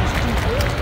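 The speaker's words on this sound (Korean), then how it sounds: "박수 부탁드립니다" An outdoor audience at the Seoul World Fireworks Festival applauds in a continuous rush of many hands clapping, mixed with crowd noise and voices close by.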